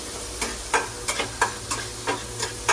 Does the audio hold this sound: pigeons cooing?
no